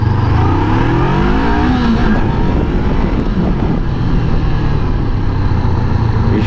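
A 2018 Honda CBR500R motorcycle accelerating hard on a test ride, its engine revving loud and close with rising pitch sweeps through the gears, mixed with strong wind rush throughout.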